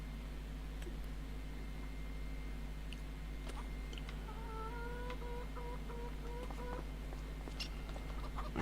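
Chickens clucking on a farm in Farming Simulator 25, on the Montana 4x map in late winter: a few short, soft clucking calls over a steady low farmyard hum.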